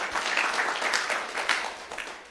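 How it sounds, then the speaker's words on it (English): Audience applause at a project closure event, right after the chief guest is introduced. Steady, dense clapping from a crowd runs through the whole stretch with no talk over it. "A hard clap for him, please."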